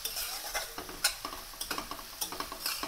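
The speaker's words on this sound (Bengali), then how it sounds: "সামান্য হলুদ দিয়ে পেঁয়াজটাকে ভালো করে ভেজে নিতে হবে।" Onions frying with a little turmeric in a pan, a faint sizzle under repeated rhythmic stirring strokes and light spatula scrapes against the metal, close by.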